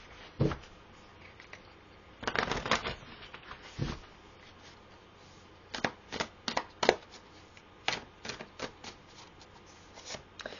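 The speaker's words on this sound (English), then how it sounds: "Let's pull some more cards here." Tarot cards being shuffled and pulled, heard as scattered close riffles and soft slaps of card stock, some bursts longer than others, in a quiet room without talk.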